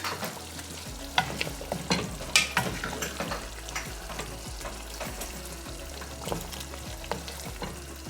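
Beef sizzles and crackles steadily in a hot pot while a utensil scrapes and stirs in irregular strokes, close up and with no speech.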